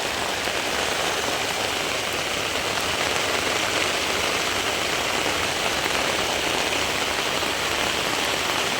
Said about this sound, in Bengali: মসুল ধারে বৃষ্টি হচ্ছে